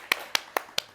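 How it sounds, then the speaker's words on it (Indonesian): Four sharp, isolated hand claps land at an even, slightly slow pace, each a crisp close snap with quiet in between. "Telat banget tepuk tangan lo."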